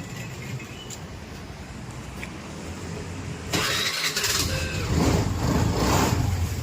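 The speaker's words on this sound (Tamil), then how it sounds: "ஸோ வண்டி வந்து பார்த்திங்கன்னா இப்போ ரன்னிங்கில் தான் இருக்குது. ஸோ இன்ஜின் பீட் எப்படி இருக்குன்றதை நீங்களே பார்த்துங்க." A rebuilt Honda Activa 110 scooter engine with a new cylinder kit first gives a low background rumble, then fires up about halfway through and settles into a louder, steady running note close by. No one speaks.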